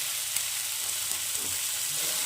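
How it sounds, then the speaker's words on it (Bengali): Warm water goes into sautéed vegetables, including cauliflower, in a hot pan for a duck egg curry, giving a steady, close hiss and sizzle with a few faint splashes and clicks. "এখন আমি এর মধ্যে উষ্ণ গরম জল দিয়ে দেব"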